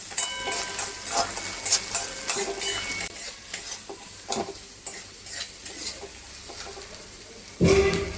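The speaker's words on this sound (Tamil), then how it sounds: "வெங்காயம் போட்டுக்கோங்க. நல்லா கலரிக்கோங்க." Onions stirred in a hot pan as they fry, a steady soft sizzle broken by repeated scraping strokes of a spoon, close and alone, ending with a brief louder clatter.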